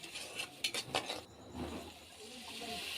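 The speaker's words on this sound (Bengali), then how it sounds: "দিলাম হলুদ, জিরা, নুন দিয়ে খুব ভালো করে ভেজে নেব" Turmeric, cumin and salt fry in a pan for a home cashew-and-almond brinjal curry, with a few metallic clinks of a spoon scraping and stirring, then a soft continuous sizzle.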